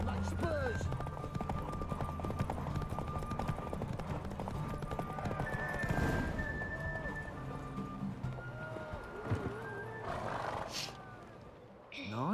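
Horse hooves clip-clop at a gallop in The Witcher 3, a steady rhythm under continuous game sound and music, with a brief whinny and other effects mixed in.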